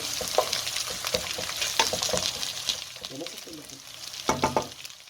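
Meat with onions, spices and other ingredients sizzling and frying in a pot for rice-and-meat kabsa, a steady crackling hiss broken by scraping stirs and occasional louder clanks, close by with no talk.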